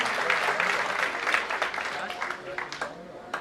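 Audience applause welcomes President Ram Nath Kovind at a Shri Khatu Shyam Delhi Dham ceremony, a steady wash of crowd clapping that slowly thins into scattered claps, with voices mixed in.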